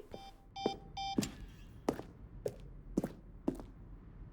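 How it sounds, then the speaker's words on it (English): An office desk in the video game The Stanley Parable gives three short electronic beeps, followed by a run of evenly spaced dull thunks, all heard alone. "Beep."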